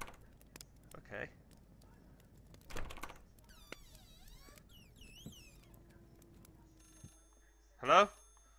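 A telephone rings in the horror video game Layers of Fear, brief bell-like trills scattered among clicks and eerie game effects, mostly quiet with a louder burst near the end.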